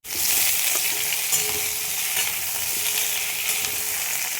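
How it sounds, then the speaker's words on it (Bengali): Mung dal fries in a pan, filling the clip with a loud, continuous, close hiss of sizzling oil, with light stirring scrapes underneath and no voices. "মুগের ডালটা ভাজলাম"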